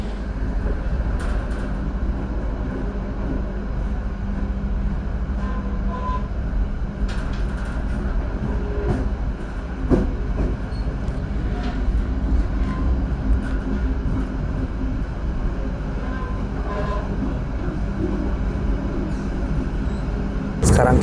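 An Ambarawa Express premium economy passenger train pulls away after a short stop, a steady rumble of wheels and carriages with occasional clanks heard from aboard, and voices talking over it throughout.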